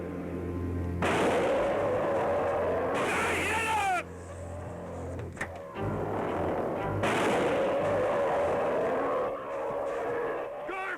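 Rifle shots in a 1977 snowbound creature film ring out as loud booming blasts with rolling echoes, separated by stretches of rumbling background, close and dominant with no talk.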